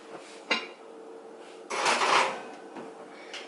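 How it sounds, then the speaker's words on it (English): A lid set onto a pot holding sourdough bread before baking: a light knock, then a longer scraping clatter as it settles, with a faint tap afterward, close and quiet. "Put the lid on"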